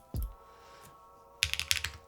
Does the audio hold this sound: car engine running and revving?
no